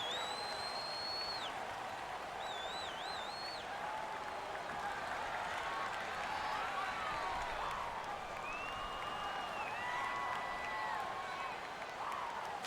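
Stadium crowd noise from an NFL video game featuring the New York Jets and Dallas Cowboys, a steady wash of roaring and cheering that holds constant, with whistle-like tones rising above it.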